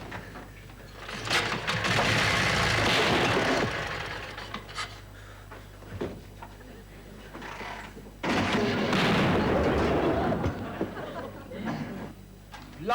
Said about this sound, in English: Blimey, what a bike. If they heard those bangs,